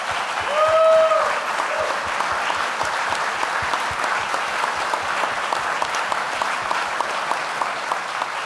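Sustained applause from an audience at an award ceremony honouring scholarship recipients, steady and dense throughout, with a brief tonal whistle or cheer near the start and no speech over it.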